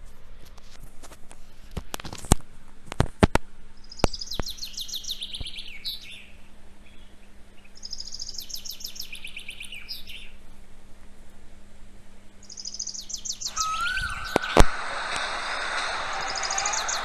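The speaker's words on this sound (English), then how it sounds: "She opens the window and the singing of the birds fills the room." Birds sing outside an open window in bursts of high chirping and tweeting that come and go, with a few sharp clicks or knocks and a faint background hum, and no talking.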